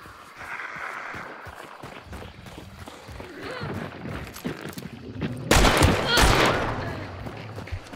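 Rapid bursts of gunshots in the video game Hunt Showdown during a player fight near a boss, growing loud in the latter half amid footsteps and background noise, with people talking.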